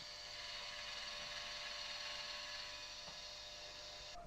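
A Frontier blade sharpener running in a test, giving a steady, even electric whine and hum that holds unchanged for several seconds before a small shift near the end, close and without speech.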